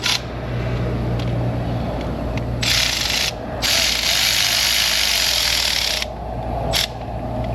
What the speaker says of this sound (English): 7/8 wrench too on this one